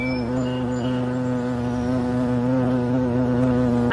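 Steady, continuous buzzing of many bees at campus beehives, a dense droning hum that holds evenly throughout without pause.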